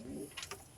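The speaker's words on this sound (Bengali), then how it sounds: "দুটোই লালদুম পায়রা" A Laldum pigeon gives a short, soft coo close by, a brief low call with faint chirps, alone and quiet.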